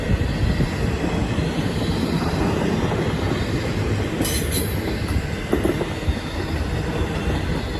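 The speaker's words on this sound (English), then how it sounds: "NS unknown westbound intermodal train came by with 3 NS locomotives" A Norfolk Southern westbound intermodal freight train with three locomotives rumbles past close by at Elkhart, Indiana, in a steady, loud roar of rolling cars, with brief metallic squeals from the wheels.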